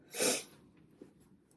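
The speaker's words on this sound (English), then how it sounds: "I'm sniffling, sorry." A single sharp, breathy sniff up close, followed by quiet breathing.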